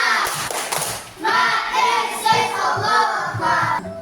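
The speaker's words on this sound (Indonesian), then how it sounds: "Tepuk semangat!" Group spirit clap (tepuk semangat) in a classroom: loud, quick rhythmic clapping in bursts with voices calling along, close and lively for several seconds.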